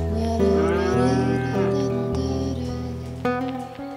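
A cow mooing on a farm, one long loud low call held for several seconds close by, with a brief second lowing near the end.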